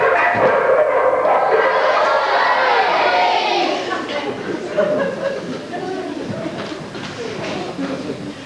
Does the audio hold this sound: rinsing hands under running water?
no